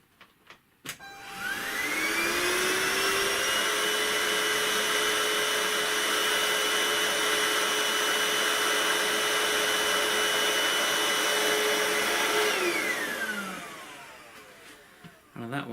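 A Hoover S4002 or FD22RA vacuum cleaner switches on, whines up to a steady, loud roar with a high motor tone, runs for about ten seconds, then spins down and stops.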